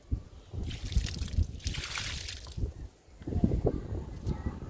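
Coffee-powder liquid fertilizer trickles and sloshes as it is poured onto a garden plant flowering in clusters, with a brief gap before pouring resumes.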